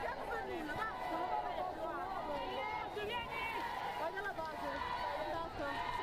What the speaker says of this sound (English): this home crowd finding their voices too